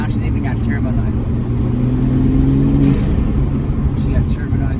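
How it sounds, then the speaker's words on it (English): Turbo whoosh and engine note from a 2021 Toyota Supra fitted with an MST downpipe and intake, a steady mid-pitched drone with a rising whine for a few seconds, heard close and continuous throughout. "And now she's even got turbo noises."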